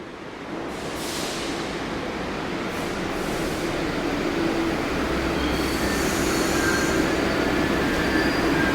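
A subway train rumbles steadily into the 79th Street station, wheels screeching and squealing at high pitch, loud and close, with no voices.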